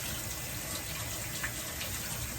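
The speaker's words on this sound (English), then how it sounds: "just washing my hands very well, turning the water off, drying my hands" A tap runs steadily while hands are washed beneath it, giving a continuous close rush of flowing water with no talking.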